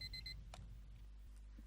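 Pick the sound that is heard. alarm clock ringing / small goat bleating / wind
alarm clock ringing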